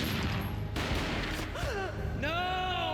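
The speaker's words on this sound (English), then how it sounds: "A gunshot boomed and she fell down in slow motion." A gunshot booms in the Max Payne video game, a loud sudden blast over a dense, continuous game soundtrack with tonal sweeping effects following it.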